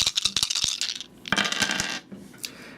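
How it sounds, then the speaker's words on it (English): Skill dice for the Ninja Dice board game are rolled onto a hard table, giving a quick clattering rattle of bouncing hits that dies away, then a second shorter tumble, close and fairly loud, with no talking. "then I roll my skill dice."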